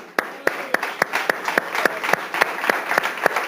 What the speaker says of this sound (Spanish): Démosle un aplauso al Señor, hermano